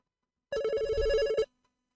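A telephone rings with an incoming call to a call-in show, one steady electronic ringtone burst of about a second, close and clear, followed by silence.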